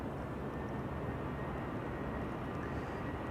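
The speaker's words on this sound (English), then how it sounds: "E2 Embraer to London just now took off" An Embraer E2 taking off at Amsterdam Schiphol makes a dense, steady engine roar of even loudness, heard alone without any talking.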